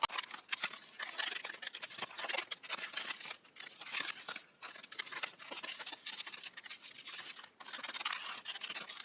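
Scissors snip through a paper specimen card in rapid, repeated crisp cuts and rustles, sped up into a dense, continuous scratchy texture lasting several seconds.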